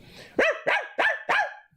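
A man imitates a barking dog, calling it a Guyanese rice-eater dog. Four quick, loud, close barks come in a steady rhythm with no other sound.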